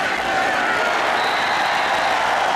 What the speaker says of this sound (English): listen to the reception he gets from this crowd